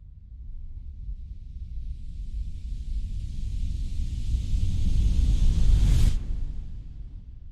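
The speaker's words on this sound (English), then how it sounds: "One thing that pops up throughout Muse is this riser that I created that sounds like this." A synthesized riser effect from the Muse soundtrack swells from a low rumble into a bright, rising hiss, peaking loudly around six seconds before cutting off sharply into a fading low tail, with no talk.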